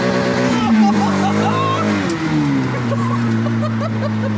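An Ariel Nomad's engine drones loudly and close while driving, its harmonic pitch sliding up and down through gear changes as voices talk over it in the cabin.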